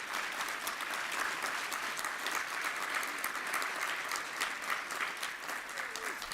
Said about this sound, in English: If we could have a huge round of applause for our phenomenal panelists here.